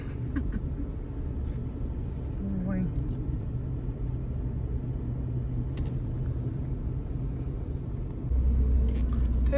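A car rolls slowly along a patched road under construction on an overcast day, its steady low engine rumble and tyre noise continuous throughout, swelling slightly louder near the end.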